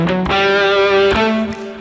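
A distorted electric guitar plays a Mixolydian phrase with a flat seventh, a few sustained, gritty overdriven notes picked in quick succession and heard alone, with no talk.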